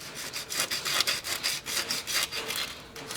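Rapid rhythmic scraping of stuck gasket residue from the face of a Peugeot/Citroen 1.6 HDI engine, a close, dry rasping stroke repeated several times a second, with no talk.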